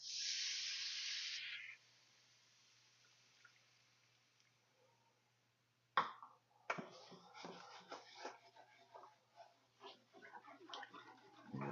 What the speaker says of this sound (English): I'm going to add a cup of beef broth.